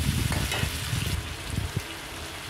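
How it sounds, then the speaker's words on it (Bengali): A spiced potato mixture with masala paste sizzles and crackles steadily in a hot pan, with occasional stirring scrapes, close and continuous without talk. "তো এটাকে আমি কিছুক্ষণ কষতে দেব।"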